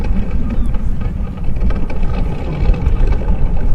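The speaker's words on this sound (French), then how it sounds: "le bruit qu'on entend, c'est quelqu'un qui est en train de descendre son bateau sur une jetée" Continuous low rumbling and scraping with a steady engine-like drone as a boat is eased down a jetty at close range, in Brittany, France.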